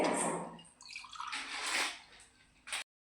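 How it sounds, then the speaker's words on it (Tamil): Water being stirred and swished into a flour mixture for porridge, wet sloshing and splashy scraping up close, ending with a short clink before silence. "போட்டு தண்ணி கலக்கிக்கலாம்."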